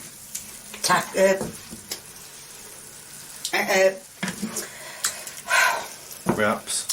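Food mixture stirred in a frying pan, soft scraping and sizzling in short bursts, with a person speaking over it at intervals.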